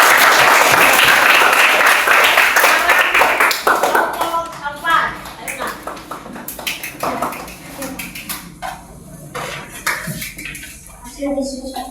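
A classroom audience claps together, loud and dense at first, then thinning into scattered individual claps and light tapping while voices murmur underneath.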